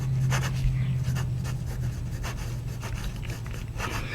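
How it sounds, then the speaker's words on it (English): A Wing Sung 9158 fountain pen with an extra fine nib scratches across paper, a soft continuous rasp with short strokes and brief pauses, close and fairly quiet. "you can hear the nib on the paper, but it is an extra fine nib"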